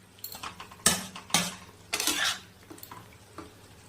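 A utensil stirs mustard paste into a bubbling pot for puti fish shorshe paturi, making several distinct scraping and clattering strokes against the pot, close and moderately loud, with quieter rattles in between and no voices.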